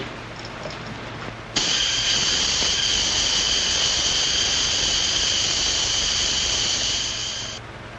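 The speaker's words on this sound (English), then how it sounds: "Turn on the steam." Steam from a valve bursts on suddenly in an old 1937 film scene, a loud steady high hiss that holds for several seconds and then tapers away, with no voices over it.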